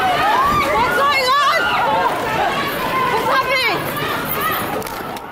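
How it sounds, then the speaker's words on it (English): Crowd at a London train station in panic, many overlapping shouting voices and frantic chatter under running commotion, loud and close throughout with no let-up. "A London vacation goes from romantic to horrifying for a YouTube channel called YouTube Vlogs when everyone begins running at once at a train station."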